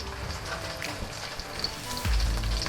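Soy sauce hits a hot frying pan of cabbage Manchurian, a dense close sizzle that swells into a louder hissing burst near the end.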